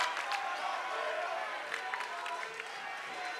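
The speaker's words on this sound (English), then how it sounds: "And this crowd is loving it again." A packed crowd at capacity in the Hoboken High School gym cheers and applauds during a timeout at an NJSIAA tournament semifinal basketball game, a steady, dense roar with scattered claps and shouts throughout.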